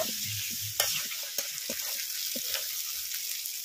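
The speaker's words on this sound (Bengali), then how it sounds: "মাংস এবারে একটু সময় নিয়ে কষিয়ে নেব।" Minced meat and potatoes stir-fried in a pan, a steady soft sizzle broken by scraping spatula strokes and a few sharper clinks, close and fairly quiet with no voices.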